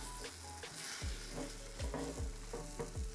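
A masala omelette frying on low heat in a pan just after being flipped, with a soft continuous sizzle and repeated scraping strokes of a spatula against the pan surface, fairly quiet and close.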